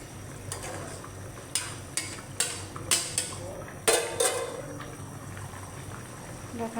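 A fish head dropped into a pan, with clattering utensil and pan knocks and stirring scrapes over a low cooking background, a few sharp transient hits spread across the span.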